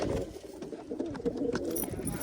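A wild pigeon held in a hand coos softly and close by, with low, repeated throaty murmurs and a little rustling.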